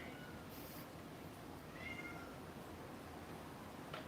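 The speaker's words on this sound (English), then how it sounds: "The desperate meows are definitely disgruntlement." A house cat gives a few faint, drawn-out, complaining meows indoors, heard softly against a steady background hum.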